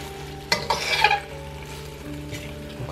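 Longanisa sausage cooks in a frying pan, a close crackling sizzle that bursts up sharply for about a second, then settles into a softer steady hiss.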